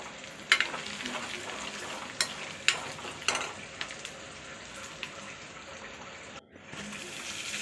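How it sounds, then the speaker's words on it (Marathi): Sprouted moth beans (matki) stir-fry in spice masala in a pan, a close steady sizzle with occasional scrapes and clinks of a spoon stirring. "ही मटकी आता मसाल्यामध्ये चांगली परतून घ्या।"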